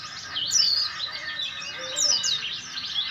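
Javan white-eye (pleci Banten) songbird chirping in rapid high, thin twittering phrases, two bright bursts of song close by over faint background hiss.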